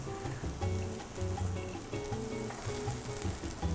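Half an onion sliced and dropped into a hot pan, giving a close, continuous sizzle with irregular crackles and light spattering that never lets up.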